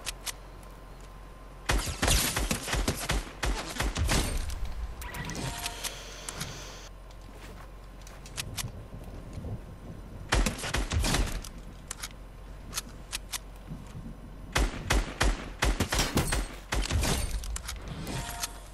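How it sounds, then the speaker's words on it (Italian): Bursts of gunfire in a battle royale video game, sharp broadband volleys clustered around the start, middle and end with quieter gaps between, fairly loud and heard without talk. "sta uno che sta a sparare là"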